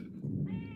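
A single cat meow, short and close, rising into a harmonic cry near the end, with no talking.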